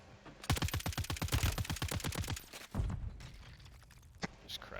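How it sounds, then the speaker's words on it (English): Sniper teams fire in a Warzone video game match, with a rapid burst of rounds in quick succession, then a heavier shot and a few scattered reports fading out. "they're shooting at people I just saw"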